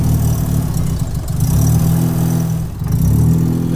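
A Mazda RX-7 FC rotary engine runs shortly after its first start following years in storage, a close, loud, steady idle with a slight dip and rise in revs near the end.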